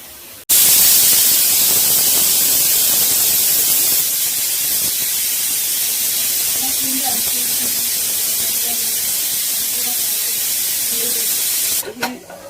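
A pressure cooker of boiled pulses set aside on the stove vents steam in a loud, steady hiss that runs unbroken for about eleven seconds before cutting off abruptly.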